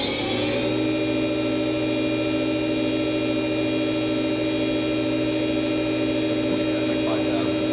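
Spindle of a Milltronics CNC vertical mill with a 40-taper spindle running at 3,500 RPM, a loud, steady machine whine with layered tonal hum and no change in pitch, a short hiss at the start.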